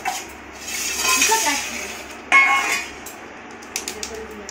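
Ceramic plates are handled at a biryani meal, giving a few clinks and knocks among soft rustling, with a sharper clatter midway and faint voices in the background.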